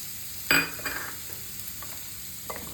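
Grated carrot and beetroot tossed into a hot wok: a sharp sizzling burst at the start, then scattered softer stirring scrapes and light crackles over a low steady hiss, with nobody speaking.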